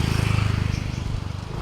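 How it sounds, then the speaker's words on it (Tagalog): A motorcycle engine putters nearby at a garden clubhouse, a fairly quiet, rapid pulsing idle with a regular throbbing beat. "Yung tunog ng motor."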